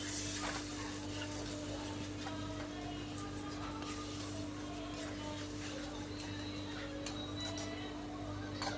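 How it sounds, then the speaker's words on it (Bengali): Fish-head and taro-leaf curry with green chilli paste and ground cumin being stirred in a pan, a steady soft sizzle with scraping stirs throughout, close and continuous under a low hum. "এবার লঙ্কা বাটা, কাঁচা লঙ্কা পেস্ট করা, জিরে গুঁড়ো দিয়ে আমি নাড়াচাড়া করে নিচ্ছি ভালো করে।"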